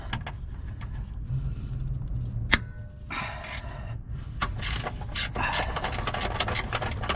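A hand ratchet works loose a tight 14mm bolt on the front upper control arm of an Infiniti G35 Coupe, giving bursts of quick clicking close by, with a sharp metallic snap partway through.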